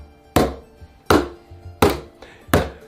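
Bodhran downstrokes: four sharp, loud drum hits evenly spaced about three quarters of a second apart, each with a short boomy decay, played alone and close with no talk.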